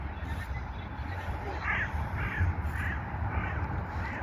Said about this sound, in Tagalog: Uwak na uwak, pati sound eh.